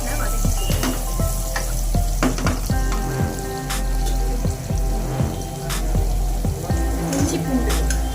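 Chicken, onions and potatoes sautéing in a pan, a loud steady sizzle with sharp ticks and repeated stirring clinks against the metal.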